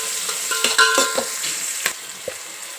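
Onions frying in a pan with carrot and green chillies, a steady close sizzle broken by a few scraping stirs and a light metallic clink.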